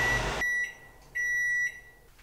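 A microwave oven heating oatmeal gives two steady, fairly faint electronic beeps, each lasting about half a second, after its running hum cuts off.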